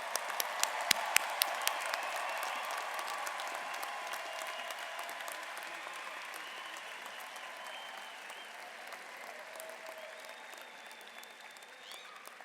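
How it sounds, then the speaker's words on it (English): Auditorium crowd at a Seattle University graduate commencement applauds master's and doctoral degree recipients, a dense sustained roar of clapping with a few sharp close claps early, slowly thinning out. "Can we have another round of applause for all of the new recipients of master's and doctoral degrees from Seattle University?"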